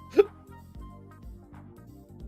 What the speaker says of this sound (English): Excuse me, I have the hiccups.